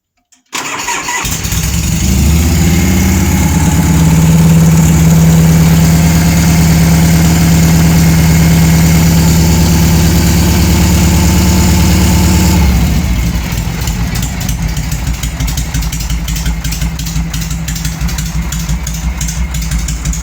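A Harley-Davidson Shovelhead motorcycle engine cranks and fires up, then settles into a loud, steady, rumbling idle with a lumpy, throbbing beat close by.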